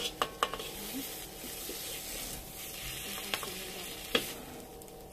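Sambal ingredients fry in oil in a pan, giving a steady close sizzle broken by a few sharp clicks and taps of a utensil stirring against the pan.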